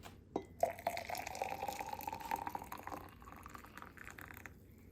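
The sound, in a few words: steaming hot water poured through polished ceramic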